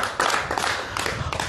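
A short burst of audience clapping, fairly close and dense, rising abruptly and continuing as uneven rhythmic claps for about a second and a half.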